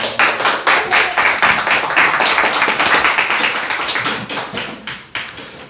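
Applause welcoming a speaker to the stage at a testimony gathering: a crowd of hands claps in dense, steady rhythm for several seconds, loud and close, tapering slightly near the end.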